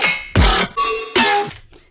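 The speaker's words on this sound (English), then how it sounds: "this is like more of a dubstep type sound" A dubstep growl synth fires three loud, gritty bursts in quick succession, each a harsh, throaty wobble separated by short gaps, alone with no talk.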